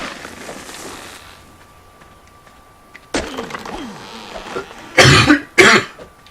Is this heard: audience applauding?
no